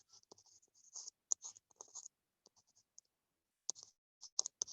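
Faint scratchy strokes of writing on a board or tablet during a lesson, in short bursts with brief clicks and pauses, quiet and close with no talking.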